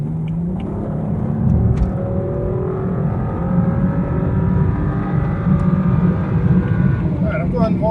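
A 2013 BMW ActiveHybrid 3 in sport mode, rear-wheel drive, accelerating hard at highway speed, its engine note climbing steadily under road and wind roar while someone talks over it.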